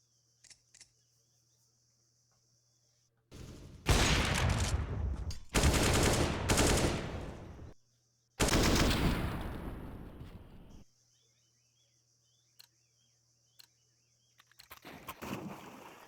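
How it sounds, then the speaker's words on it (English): Automatic gunfire sprays in bursts during a competitive shooter esports match, loud volleys of a few seconds each separated by quiet gaps, with a faint steady hum underneath and no talking. "Ooh, what a beautiful shot is that, but he will be sprayed down by Levy."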